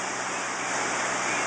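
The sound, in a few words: rushing water of a flooded brook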